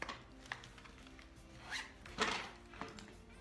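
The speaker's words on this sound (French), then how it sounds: "Et là, une fermeture éclair pour mettre les pièces." Zipper on the coin pocket of a wallet, a few short, quiet scratchy zips and rustles close by, the longest two near the end.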